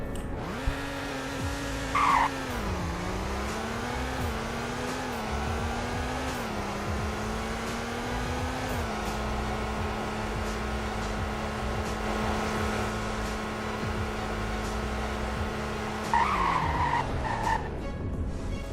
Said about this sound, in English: Here is the 0 to 100 braking test.